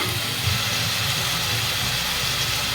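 Spice paste sizzles steadily in hot oil with slit green chillies added, cooking for a bata fish curry; a continuous, even frying hiss with no pauses.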